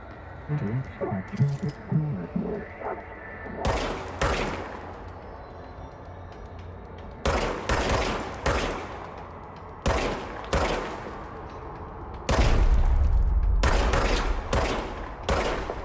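Gunfire in the video game Control: loud bursts of shots in several separate volleys, with a sustained rumbling stretch near the end, heard over faint background game sound.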